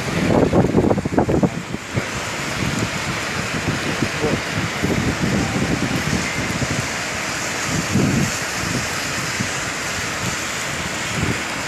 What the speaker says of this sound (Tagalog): Heavy rain po ngayon dito ngayon sa Saudi Arabia.